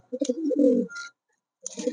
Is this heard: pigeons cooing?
yes